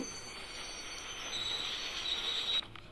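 A train in the video game Indian Bike Driving 3D rumbles in with a steady mechanical roar and high metallic squeal of wheels on rails, growing slightly louder, with no talking.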